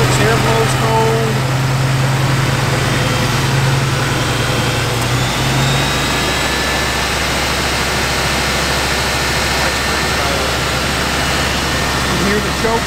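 A 1986 Oldsmobile Cutlass Supreme engine idles on choke with a steady, loud, continuous rumble and a low hum that shifts slightly early on, while people talk over it.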